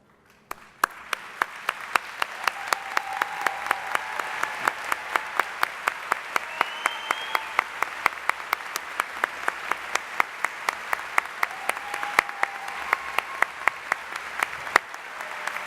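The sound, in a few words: round of applause for veterans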